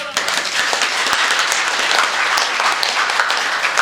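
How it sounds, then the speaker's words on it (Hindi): A large audience at a Hindi poetry recital claps hands together, a dense, continuous roar of applause sustained at full strength throughout, with no speech over it. "ऐसे बजती है ताली"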